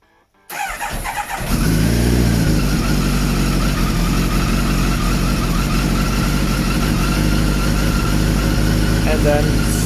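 A Kawasaki GPZ900R motorcycle engine is started cold on choke: a brief crank after a short quiet moment, then the engine catches and settles into a loud, steady, rough idle that continues to the end.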